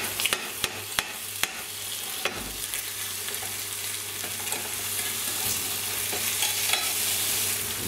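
A hamburger sizzles and fries in a pan, a steady crackling hiss with a few sharp clicks and scrapes from the pan early on as the patty is turned, and no voices.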